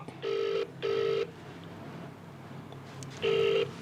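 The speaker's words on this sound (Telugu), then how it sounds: "ఒక ఆయన ఫోన్ లేపుతలేడు." A telephone rings in steady electronic bursts, two rings close together, a pause, then a third ring, with no one picking up.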